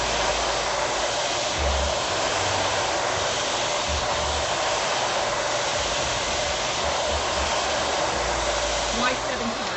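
A hair dryer runs loud and steady throughout, blow-drying hair at the roots for maximum volume, a constant broadband rush with faint voices underneath.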